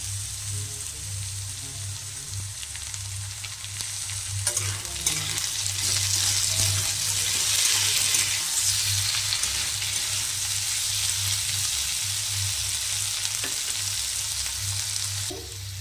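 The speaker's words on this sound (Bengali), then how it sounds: "আলুগুলো ভাজা ভাজা হয়ে গেছে।" Potatoes fry in a pan with tomatoes and green chillies for aloo posto, a steady, close sizzle with crackling that continues without pause and no talking.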